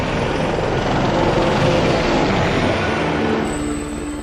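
U.S. AH-64 Apache attack helicopter: a loud, continuous rotor and turbine roar, dense and steady, easing slightly toward the end, with no speech.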